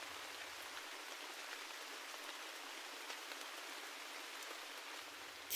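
Steady rain falls and patters on surfaces, a soft continuous hiss of raindrops with no voices, even and unbroken throughout.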